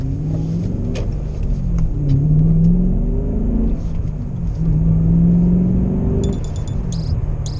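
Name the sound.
BMW E39 M5 car pulling out slowly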